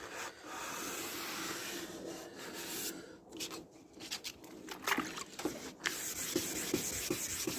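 Hand sanding and cutting back a wet car headlight lens in straight strokes, a steady close rasping rub with brief pauses and shifts in pressure, no voices.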